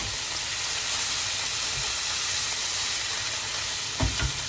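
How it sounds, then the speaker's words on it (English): Greens sautéing in a pan until wilted: a steady, bright hiss of sizzling close by, with a couple of brief stirring knocks near the end and no talking. "We're going to let all that saute down so it's, you know, nice and wilted."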